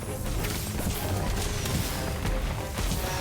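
Whiz-bang spell in the Harry Potter: Magic Awakened game erupts as a rapid string of crackling smashes and thwacks over dense battle noise, loud and sustained.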